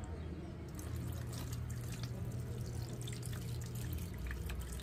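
Water from boiled taro and sweet potato drains through a strainer into a sink, a steady splashing pour with drips running for several seconds at close range.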